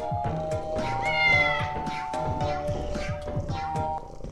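Maxwell the cat in the video game Lethal Company lets out a run of repeated, rhythmic meows over background music, loud and close throughout.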